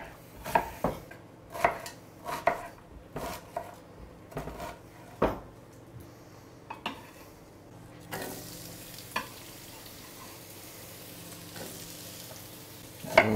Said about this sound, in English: I've got 2 onions here that I'm just going to slice up.